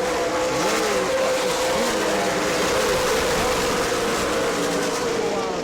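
Race cars compete at the New Smyrna World Series, a continuous loud engine roar with shifting pitches as several cars run together, sustained throughout without pause.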